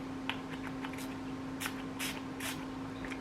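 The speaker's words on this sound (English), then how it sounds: "Oh, that is a harsh spray." Several short hissing bursts from a facial mist spray bottle, a few faint then three louder ones spaced about half a second apart, over a steady low electrical hum.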